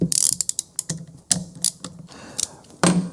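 A ratchet and socket work on Holley carburettor fuel bowls on a 351 Cleveland, giving quick close bursts of sharp clicking pawl ratcheting in short irregular runs with pauses between.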